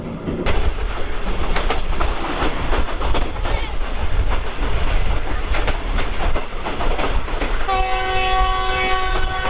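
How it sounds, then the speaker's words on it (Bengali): The Green Line Express, running from Karachi to Islamabad at about 103 speed, rumbles loudly and steadily along the rails with rhythmic clacking, and its horn sounds a long blast near the end. "গ্রিন লাইন এক্সপ্রেস ট্রেনের 103 স্পিডে যাচ্ছে"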